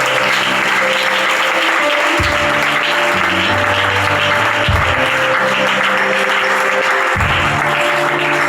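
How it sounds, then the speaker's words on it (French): A church congregation applauds steadily and loudly in praise of the Lord, with a sustained wash of clapping, while music with a low rhythmic bass plays beneath it. "On va acclamer le Seigneur."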